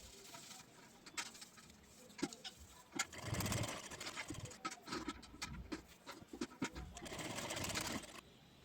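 A sewing machine stitches along the folded edge of a blouse in a rapid, steady whirring run that starts and stops in bursts, fairly close and moderately loud, with no talking.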